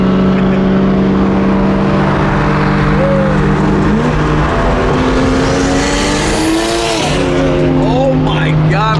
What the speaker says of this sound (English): Oh my God, but you guys hear the turbo?